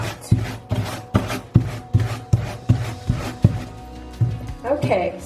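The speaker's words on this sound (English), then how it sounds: "you can also flip the sock around and just scrub out." A sock is scrubbed by hand with a scrubber in a soapy sink, about a dozen sharp rhythmic rasping strokes, close and fairly loud, with a pause before a final few strokes.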